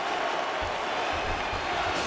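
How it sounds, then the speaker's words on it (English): Virtual arena crowd in the PS5 game UFC, at a heavyweight bout between rounds, a steady broadband roar of cheering and applause holding at an even level throughout with no talk over it. "So the crowd voicing its appreciation after that round."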